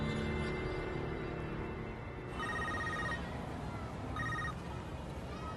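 A telephone rings in repeated electronic bursts during a tense film scene, fairly clear over a low background hum with no speech over it.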